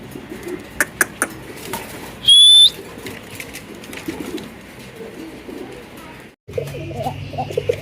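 Caged fancy pigeons coo softly nearby while other birds chirp and a sharp whistle cuts in briefly. Background noise fills the rest, with no voices.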